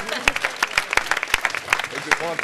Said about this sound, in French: Donc on peut applaudir ces burnes.